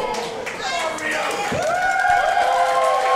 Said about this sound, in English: The crowd here loving Rio.